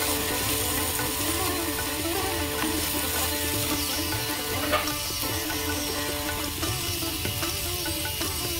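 Cauliflower and beans fry in a hot wok for street-style egg chowmein, a dense, continuous sizzle holding steady and fairly loud throughout, with faint stirring clatter and no talking.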